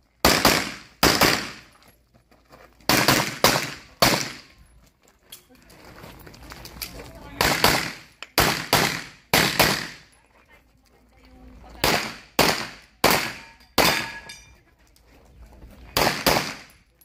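Sharp gunshots crack at an outdoor firing range used for practical shooting, set in clusters of two to four quick reports separated by short pauses, loud and close. Faint background noise sits between the volleys.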